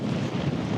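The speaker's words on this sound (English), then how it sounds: "It's just wind and spin drift, but it's minus 30." Steady wind buffeting the microphone with blowing spindrift in minus 30 degree cold on the Mongolian steppe, a constant dense roar with no pauses and no voices.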